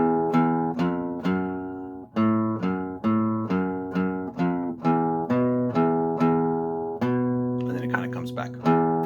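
Electric guitar playing a riff on low strings, a string of plucked single notes in a steady looping rhythm, clear and close, ending with a brief scratchy strum.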